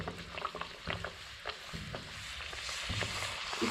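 Rolled pani puri dough discs fry in hot oil and are pressed lightly to puff. A soft, bubbling sizzle is broken by small pops and utensil taps, fairly quiet and close.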